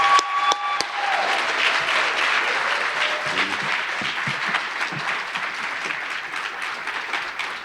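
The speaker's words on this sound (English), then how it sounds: "A round of applause, Ms. Mina Blasey." An awards ceremony audience breaks into applause for an honoree, with broad, steady clapping across the hall that holds at an even level and eases slightly toward the end.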